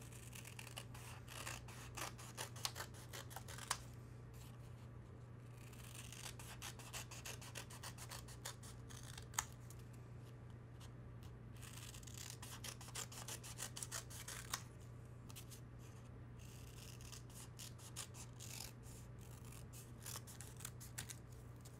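Scissors cut through paper to make petal pieces for a craft, giving quiet, close rasping snips in irregular bursts over a low steady hum, with no talking.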